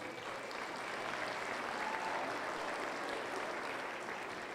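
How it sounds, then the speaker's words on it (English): Audience at a youth fair commercial heifer show applauding the exhibitors, a steady, somewhat distant patter of clapping in a large space, moderate and continuous. "Let's give these exhibitors a round of applause"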